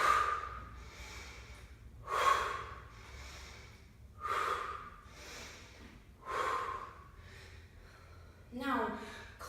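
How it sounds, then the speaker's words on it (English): Breath is pushed out the mouth during a ballet sculpt workout with weights: about five forceful, airy exhales at even two-second intervals, close and clear against a quiet background. "When we're working with weights, it can be helpful to exhale out the mouth."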